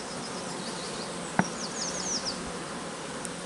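A dense, steady buzz of many honeybees close by during hive feeding, with one sharp tap and a few faint high chirps in the background.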